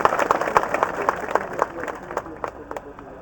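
A crowd at a tribal reservation-protection rally in Dhadgaon breaks into applause, sharp scattered claps carrying steadily over voices in the background and gradually thinning toward the end.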